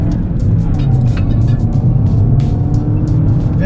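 Audi A3 S-line accelerating hard through first gear from a standstill: a loud, steady engine drone heard from inside the cabin, with tapping and clicking noises on top.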